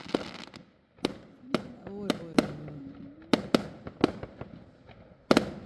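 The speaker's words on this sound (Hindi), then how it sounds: "ये लो जी हमारे घर के बाहर हो रहा है फायर पटाखे" Fireworks and firecrackers go off outside a house on Bonfire Night, a string of sharp cracks and bangs spaced irregularly, with a few whistling tones between them, some near and loud, others more distant.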